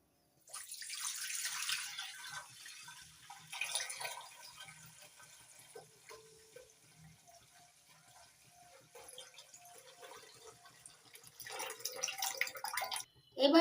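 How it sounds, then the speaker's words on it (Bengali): Milk is poured into a wok on a gas stove, with a soft, uneven splashing and trickling that comes and goes over several seconds and stays fairly quiet and close. "এবার কড়াইয়ের মধ্যে দিয়ে দিচ্ছি দুধ"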